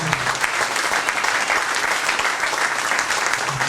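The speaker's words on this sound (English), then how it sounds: "how about a big round of applause for Bear and Cody right here, folks" A crowd gives a sustained round of applause for two young performers, Bear and Cody, at a live guitar show, steady and dense clapping from start to finish.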